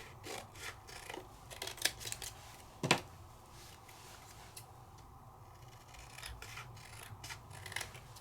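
Quiet snipping and rasping of scissors trimming paper at a craft desk, with a few sharper cuts standing out over a steady low rustle, close and soft throughout.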